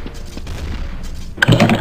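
A shotgun blast in Counter-Strike: Source booms out near the end after a stretch of quieter game noise, loud and close.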